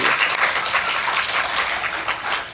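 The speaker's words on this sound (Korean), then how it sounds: "하나님께 영광의 박수 한번 올리시겠습니다" A church congregation at a Korean worship service applauds together in praise: dense, lively clapping from many hands at a steady, fairly loud level throughout.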